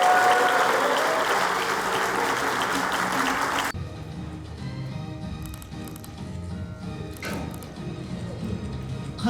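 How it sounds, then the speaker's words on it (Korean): Audience applause at a provincial governor's lecture during an agricultural cooperative heads' workshop in Gyeongbuk, a dense roar of clapping that drops to sparser, quieter claps partway through. "다시 한번 큰 박수 부탁드리겠습니다"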